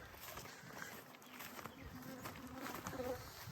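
Faint, steady buzzing of many honey bees around open hives, with soft rustles and a few louder hums drifting past nearby.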